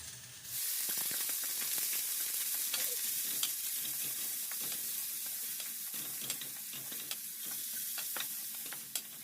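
Minced meat sizzles and fries steadily in a pan, a constant hiss with scattered small crackles and occasional stirring scrapes, close and continuous with no talk.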